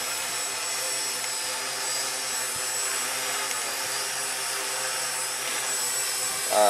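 A Walkera QR X800 drone hovering at half throttle, giving a steady, even high-pitched motor and propeller whine that stays constant throughout, fairly close and loud, with no talk.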